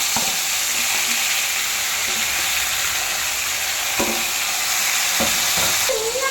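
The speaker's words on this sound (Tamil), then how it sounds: "10 சின்ன வெங்காயம், 4 வெள்ளை வெங்காயம், 4 தக்காளி பற்றி ஒன்றா நல்லா வதக்கிடுவோம்" Shallots, white onions and tomatoes sauté together in a pan for a chicken gravy, giving a steady, close sizzle and frying hiss with occasional soft stirring scrapes and clinks throughout.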